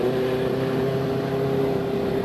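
A motorcycle engine, either a BMW G310GS or a Benelli 600i, drones steadily while riding, with a sustained tonal hum over rushing wind noise and no voices.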